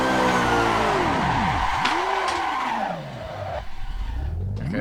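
Mazda Miata drifting in the racing game Assetto Corsa VR, with loud continuous engine whine sweeping up and down and long tire squeals across the shifts, a short wall impact partway through, and no talk.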